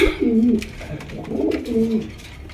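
Pigeons, Saharanpuri crested breed, coo in two low, throaty rolling phrases, close by, with a brief pause between them and no talking.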